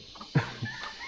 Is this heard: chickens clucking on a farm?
yes